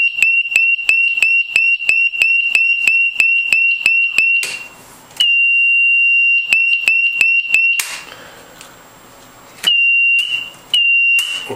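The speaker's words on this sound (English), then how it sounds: "let's reset the alarm. I'll set for 2 seconds." A home-built HERMS brewing control panel sounds its electronic alarm, a loud high-pitched beeping in rapid repeated pulses that switch to a steady continuous tone. Short bursts of broadband noise break in between the beeps.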